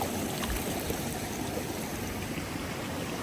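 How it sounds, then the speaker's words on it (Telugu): A mountain stream runs through a Nilgiris tea estate near Kotagiri, giving a steady, soft rushing burble of flowing water, faint and continuous with no voices over it. "అక్కడ నుంచి వస్తుంది స్ట్రీమ్, చూసారా?"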